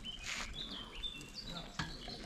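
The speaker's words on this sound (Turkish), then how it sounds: "Sadece kuş sesi var." Birdsong in a mountain forest: several thin chirps and whistles, some near and some farther off, rise over a soft rustling background, with one brief sharp sound near the end.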